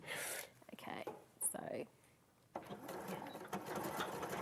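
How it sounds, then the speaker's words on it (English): A sewing machine runs stitches through thick fabric with black thread in short bursts separated by pauses, close and fairly quiet, with a person talking between the runs. "I am just using black thread just so you can see where I'm sewing"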